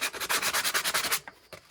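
Hand sanding of a glazed brake pad from an ATV's cable-pull front brake, a close, fast run of rhythmic rasping strokes that stops abruptly, leaving a couple of faint scuffs afterward.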